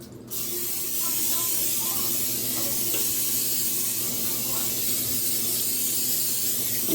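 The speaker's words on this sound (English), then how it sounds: "I'm going to go ahead and spray it with this canola oil." A continuous hissing spray of canola oil from a can onto a pan starts after a brief pause and runs steadily to the end.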